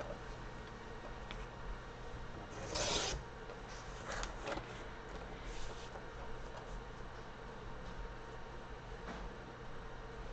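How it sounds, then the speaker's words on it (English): Two stacked sheets of paper being cut into strips for a junk journal, a soft continuous rasping with a few louder scrapes, faint and steady with no voices. "I'm actually cutting both pages at the same time"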